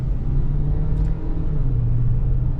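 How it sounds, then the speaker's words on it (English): A 2025 Ford Bronco Sport Badlands engine hums steadily at low pitch while accelerating, with a constant road rumble, smooth and fairly quiet rather than straining. "the engine's pretty quiet. It doesn't just sound like a stressed out 4-cylinder"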